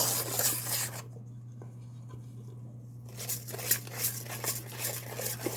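A ladle stirs peach cobbler batter in close, brisk scraping and swishing strokes that pause for a couple of seconds before resuming in a quicker patter.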